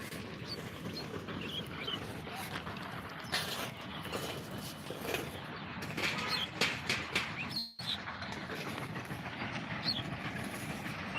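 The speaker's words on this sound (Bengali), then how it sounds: "এটা পুরা পঞ্চগড় রেলওয়ে স্টেশন" Quiet outdoor ambience at Panchagarh railway station with a train's mechanical rumble and clanking, faint rhythmic clatter and occasional distant birds.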